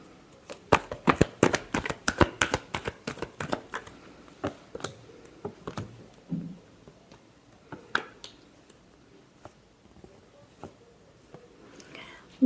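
Tarot cards shuffled by hand in a burst of crisp, rapid riffling clicks and flutters, busy at first and then thinning into scattered, quieter card snaps and taps.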